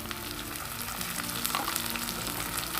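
Ginger and garlic paste fries with chopped onion in a pan of hot oil, a dense, constant close sizzle with faint crackles and light stirring scrapes throughout, no voices.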